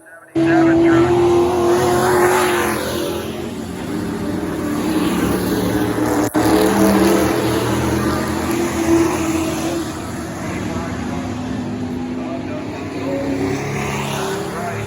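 Pro trucks race at Crystal Motor Speedway, their engines roaring loudly past and revving continuously while an announcer talks over the racing throughout.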